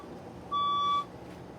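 Single electronic fire alarm beep during a test, one clear tonal half-second tone standing alone above a quiet background.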